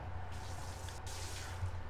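Shower water running in a Roblox horror game, a steady, even hiss of spray with a low rumble beneath, continuous and close.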